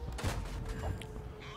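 Tank cannon fire in World of Tanks, a Type 3 Chi-Nu Kai gun: a sharp, heavy blast with a booming low rumble and ringing tail, close and loud, with battle noise underneath.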